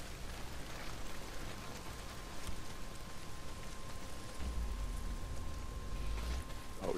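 Heavy rain pours steadily in the video game Days Gone, a dense, constant hiss with no gaps that stays at an even loudness throughout.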